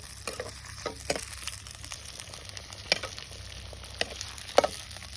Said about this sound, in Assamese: পিঁয়াজটো অলপ দেৰি ফ্ৰাই কৰি লওঁ